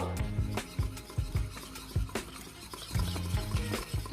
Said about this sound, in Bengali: এই তেলটা দিয়ে আমরা খুব ভালো করে আরেকবার ফেটিয়ে নেব।